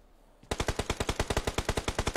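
Rapid automatic gunfire in a video game bursts in abruptly and keeps going as an even stream of loud, closely spaced shots, with no voices over it.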